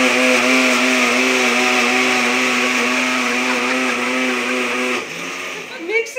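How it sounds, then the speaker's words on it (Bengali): A kitchen mixer grinder whirs loudly and steadily with a strong motor hum for about five seconds, then cuts off abruptly, leaving a brief moment of household sound. "মিক্সির আওয়াজ"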